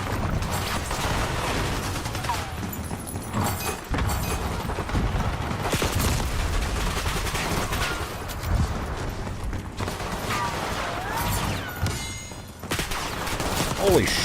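Video game gunfire on a multiplayer map, with dense bursts of rapid shots and fusillades running almost without a break, loud and close, over a busy mix of game effects.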